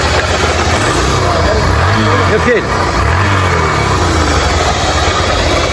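A motorcycle engine runs at a steady idle after a kick-start attempt, its low throbbing rumble continuous and close, with someone speaking briefly over it.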